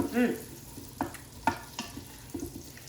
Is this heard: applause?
no